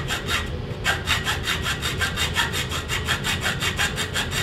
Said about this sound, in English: You're gonna saw down on these.